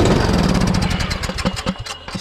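A Craftsman T130 lawn tractor engine, carburetor gummed up, cranks and sputters up close in a steady rough mechanical churn with uneven pulses, struggling without catching cleanly.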